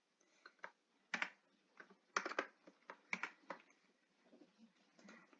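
Keys tapped on a computer keyboard in short irregular bursts of clicks, close and soft, with brief pauses between groups of strokes.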